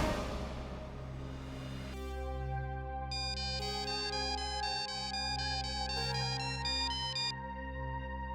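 An electronic ringtone plays a steady looping melody with layered tones, continuous and clear at moderate volume, with no talking.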